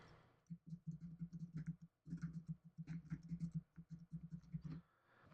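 Quiet typing on a computer keyboard, rapid irregular clusters of soft clicks and taps with short pauses between bursts.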